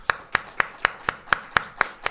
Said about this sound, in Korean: 살아계신 하나님 앞에 감사의 박수